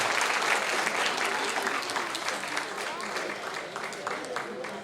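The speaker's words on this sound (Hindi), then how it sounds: "एक बार जोरदार एक साथ तालियां। कृपया आप ताली बजाते रहिए।" A seminar audience applauds senior citizens being honoured on stage, a dense, steady wash of many hands clapping that fades slightly over time, with a voice talking over it.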